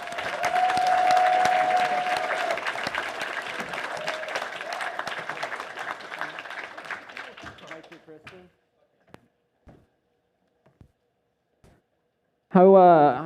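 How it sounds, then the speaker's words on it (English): Audience at a furry convention's 2023 closing ceremony bursts into loud, sustained applause for about eight seconds, then it fades into scattered claps and quiet before a voice speaks at the end. "Give yourselves a huge round of applause."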